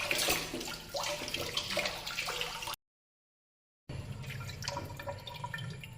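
Running water splashes steadily over blue marlin being washed for a Bicol Express dish, with close, continuous tap flow and dripping that cuts out briefly before resuming.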